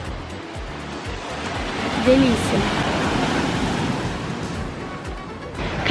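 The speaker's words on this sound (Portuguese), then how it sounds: "Dá de cara com o mar." Ocean surf rolls onto the beach at Prainha Branca beside a campsite, a steady broad wash of waves that fills the whole clip, with a brief spoken word partway through.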